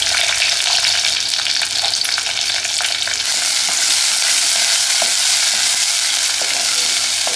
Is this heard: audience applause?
no